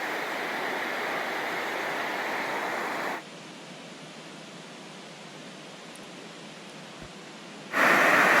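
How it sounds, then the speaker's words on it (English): Small waterfall on the Superior Hiking Trail at Split Rock Ridge, a steady broadband rush of falling water that drops to a softer, more distant wash midway before swelling loud again at the end, with no voices. "Small waterfalls everywhere on this trail. Another little one."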